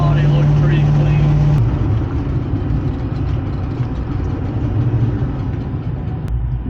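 A Ford Fox Body Mustang engine idles with a steady low rumble, its pitch dropping as it settles from a high idle to a lower one, close and continuous throughout.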